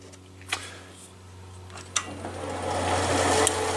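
Sorby spiraling tool cutting a textured spiral into wood spinning on a lathe, with a steady low motor hum, a few sharp ticks and a rising rough scraping toward the end.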